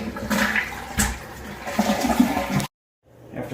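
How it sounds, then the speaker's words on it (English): A toilet flushes in a home with wood floors during a fill valve replacement, a loud rushing swirl of water that carries on for a few seconds, then cuts off abruptly, followed by the faint trickle of the tank refilling. "Next thing we're going to do is flush the toilet"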